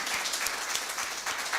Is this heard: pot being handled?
no